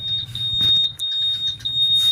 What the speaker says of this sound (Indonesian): misalkan ada yang mau nyolong ya, misalkan dia bakal bunyi alarm ya.